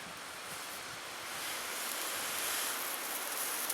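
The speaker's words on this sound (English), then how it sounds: "This is a nice breezy day" Wind blowing outdoors in the wilderness on a breezy day, a steady broadband rush that builds slightly louder midway, heard close with no voices.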